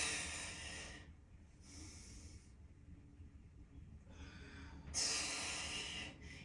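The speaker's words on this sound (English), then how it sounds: "If you could just hear me breathe" Heavy breaths during a lower body workout come close and audible as hissing exhales, loud bursts at the start and near the end with quieter panting between, and no speech.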